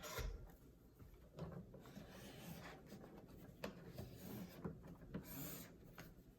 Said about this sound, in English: And then burnish that in.